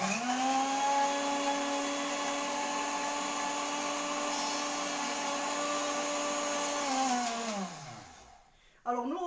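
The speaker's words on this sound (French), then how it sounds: "Donc je vais mixer tout cela." A kitchen blender purees peaches with rose water, whirring loudly and steadily for several seconds before the motor winds down and stops.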